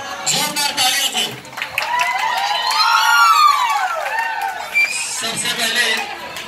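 A crowd at a children's performance prize event claps and cheers to welcome the judges, with shouts and a rising, falling whistle-like cry over the noise and people talking throughout.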